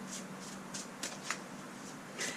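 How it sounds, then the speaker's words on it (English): Tarot cards being shuffled by hand, soft riffling bursts and light slaps in an irregular rhythm, close and fairly quiet with no talk. "Still shuffling."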